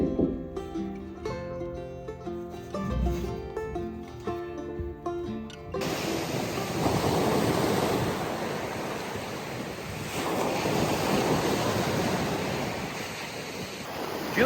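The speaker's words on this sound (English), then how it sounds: "the tide is coming in, and the wind is picking up" Wind-driven ocean surf rolls and breaks on Sunset Beach as the tide comes in, a loud, steady broadband roar with swelling surges that takes over after an opening stretch of music.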